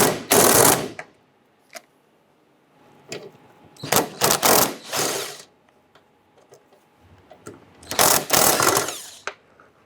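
Ratchet with a 13mm socket backing off gas tank support nuts under a 1997-2006 Jeep Wrangler, heard as three loud bursts of rapid clicking separated by quiet pauses and a few single clicks.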